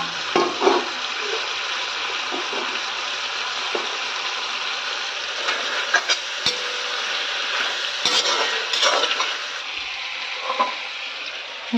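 Potato pieces and ginger-garlic paste fry with local meat in a pan, a continuous moderate sizzle broken by occasional clinks and scrapes of a utensil stirring against the metal.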